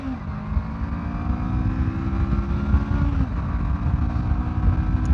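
Motorcycle engine droning steadily under load while riding, with a pitch drop around a gear shift partway through, close and continuous.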